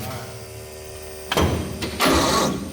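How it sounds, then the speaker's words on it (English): Electric fuel pump on an old GMC military truck clicks and whirs in short bursts, close by, with a steady hum beneath it. "Fuel pump going on."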